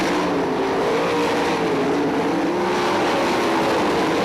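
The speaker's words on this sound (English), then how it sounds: "Working the lap traffic now in the last handful of laps here for Darren Long" Sprint cars racing on the dirt oval at Crystal Motor Speedway make a loud, continuous engine roar as the pack passes, a dense sustained drone with no break.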